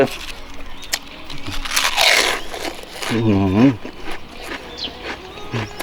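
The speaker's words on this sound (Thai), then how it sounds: "นี่เลยตะวันลูกตุ้มกรอบ กรอบทุกแผ่นอร่อยทุกชิ้น" Crispy Tawan shrimp crackers crunched close to the mouth in a few loud, brittle bites spread through the clip, with someone talking between and over the chewing.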